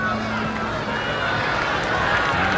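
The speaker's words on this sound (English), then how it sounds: "And the crowd's starting to get into it, too." Crowd noise from spectators at the 1985 US Open men's final in tennis, a steady, dense roar of murmuring and cheering that holds at an even level for the whole moment.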